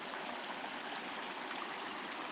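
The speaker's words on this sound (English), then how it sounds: "I'm stopping by the creek over here." A creek flows in a soft, steady babble of running water, continuous and fairly quiet with a gentle even texture throughout and no voices.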